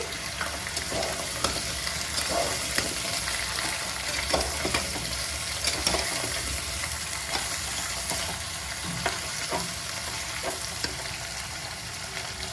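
Squash and potato fry in hot mustard oil, a dense continuous sizzle with occasional stirring scrapes, close and steady throughout with no voices.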